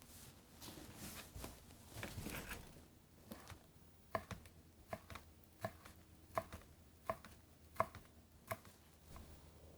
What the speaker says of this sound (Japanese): ベーコンは細切りにします。